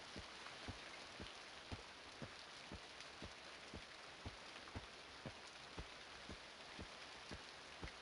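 Steady rain hisses across the Emerald Jungle in the game EverQuest, a dense broadband wash punctuated by regular soft thudding drips roughly every half second, even and unbroken throughout.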